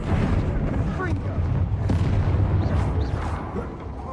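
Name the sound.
Confringo blasting spell in a Hogwarts video game duel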